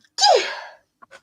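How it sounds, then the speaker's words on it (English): A single small, mousy sneeze bursts out up close and fades over about half a second, followed by a couple of soft, short breaths. "With your little mousy sneeze."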